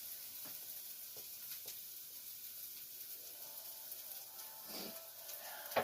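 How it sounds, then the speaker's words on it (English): Ingredients for Zuppa Toscana soup sauté in a pan, giving a faint, steady sizzle with a few soft clicks and stirring touches throughout, and no talk. "So that's sauteing up nicely right now."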